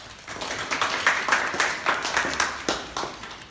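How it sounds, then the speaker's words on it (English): Audience at a student contest masterclass in Vietnam applauding to welcome a speaker, a fairly close burst of clapping with clear individual hand strikes that rises and then continues unevenly for a few seconds. "So give a round of applause to Mr. John Masud Parvez."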